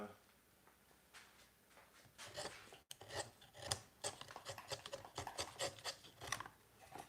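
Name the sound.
wood chiseling with a chisel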